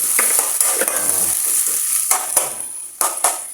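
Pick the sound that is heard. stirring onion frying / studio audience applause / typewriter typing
stirring onion frying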